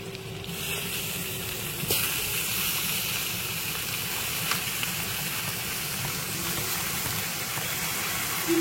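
Three kilos of chicken hit a hot pan and give off a steady broad sizzle and hiss that holds at an even level throughout, close up, with no talking.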